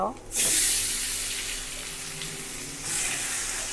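A loud burst of sizzling as marinated meat hits hot oil with fried onions, settling into steady frying with a second flare near the end.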